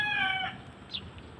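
A chicken gives a short harmonic cluck-crow up front, then fades, leaving a faint higher chirp and quiet background near a group of chickens.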